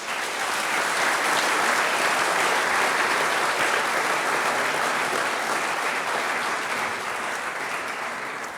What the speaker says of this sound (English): I'd like to give a round of applause on behalf of the whole of AeroDelft for all of your support and for believing in us.